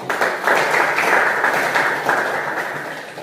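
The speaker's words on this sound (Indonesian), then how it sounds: "Saya beri tepuk tangan buat ini" Steady applause from a classroom group during a time-management guidance lesson, dense overlapping claps sustained at moderate loudness and easing slightly toward the end.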